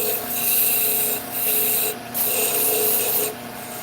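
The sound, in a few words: turning wood on a lathe with a skew chisel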